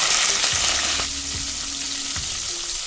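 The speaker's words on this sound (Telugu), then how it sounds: "ఇప్పుడు పచ్చిమిర్చిని ఫ్రై చేసుకుందాం." Green chillies fry in hot oil with a loud, dense crackling sizzle, and a few spoon scrapes and clinks sound against the pan.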